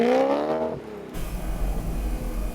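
A car runs hard up a mountain pass test section, held in third gear on a final drive swapped from 3.8 to 4.1. A strained engine note rises, then gives way to loud, steady wind and road roar.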